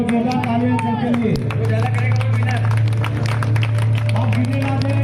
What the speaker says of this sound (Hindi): म्यूजिक एंड जोरदार तालियां